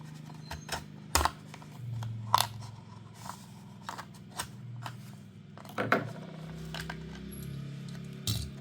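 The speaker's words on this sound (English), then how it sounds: "So let's unbox this." A Hot Wheels toy car package being unboxed, with sharp plastic and cardboard clicks, snaps and crinkles at irregular intervals over a faint low background hum.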